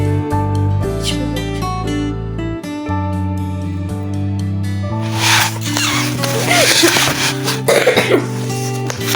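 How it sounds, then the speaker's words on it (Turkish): Someone coughs several times in a rough burst, close by, over steady background music. "Yani öksürüyorum"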